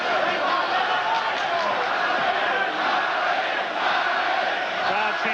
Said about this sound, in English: Crowd chanting, Barry, Barry.